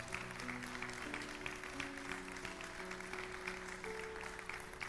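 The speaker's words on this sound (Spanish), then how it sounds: "¿Le puedo dar un aplauso a la palabra de Dios?" Church congregation applauding during a sermon, a steady wash of clapping at moderate distance with sustained musical tones underneath.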